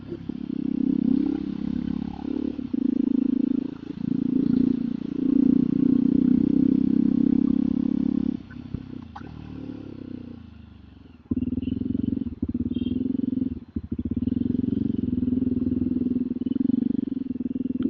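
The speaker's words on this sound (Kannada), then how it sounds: "ಈ ನಡುವೆ ಗಾಡಿ ಓಡಿಸ್ತಾ ಇರೋದು ಅಷ್ಟೇ." A motorcycle being ridden during the Kadlekai Parishe fair in Basavanagudi: a continuous close engine drone that drops away for a few seconds mid-clip, then resumes steady and loud.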